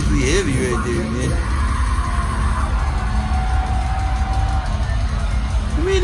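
Concert crowd at a show cheering and yelling, a loud continuous roar with whoops over the band, while someone talks over it throughout.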